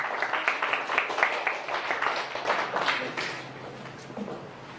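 An audience at a talk on the Gwangju African community applauds to welcome the speaker, with fairly faint, steady clapping that gradually thins out toward the end.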